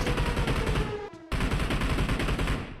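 Rapid automatic gunfire in the video game PUBG Mobile, a dense loud burst of shots that pauses briefly and then resumes.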